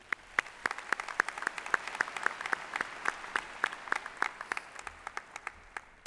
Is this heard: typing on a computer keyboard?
no